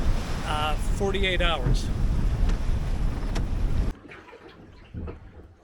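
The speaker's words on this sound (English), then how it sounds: "The southeast wind is picking up" Wind buffets a small 21-foot sailboat on the open Atlantic, a steady loud rushing roar with someone talking over it that drops off abruptly to quieter wind.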